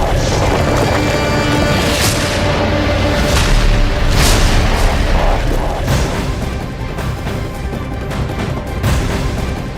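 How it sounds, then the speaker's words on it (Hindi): Explosions from an Israeli air strike bombing Gaza, a series of heavy booms and blasts rolling one after another over a dense, constant rumble, loud and fairly close with no talk. "गाजा पर इजराइल ने फिर से बमबारी की है।"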